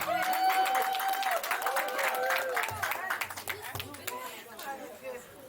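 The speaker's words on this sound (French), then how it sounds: "Est-ce qu'on peut acclamer encore une fois?" An audience applauds and cheers at an event, a loud crowd of clapping hands with raised voices that fades toward the end, while a speaker talks over it.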